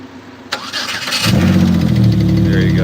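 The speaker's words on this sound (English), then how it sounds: "Wait till you hear this car, guys." An old car engine in poor condition cranks briefly, then catches and settles into a rough, loud idle, close by with no talking.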